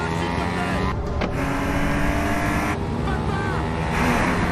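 A car driven fast on a road, its engine and road roar steady and close throughout, with a brief whoosh partway through and a voice mixed in.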